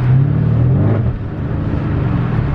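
Dodge Charger SRT8 with a K&N air intake on the road, engine giving a deep, steady exhaust rumble that briefly dips midway; close and loud, with no distinct crackles standing out.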